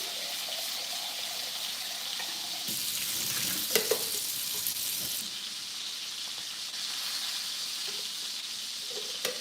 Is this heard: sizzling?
yes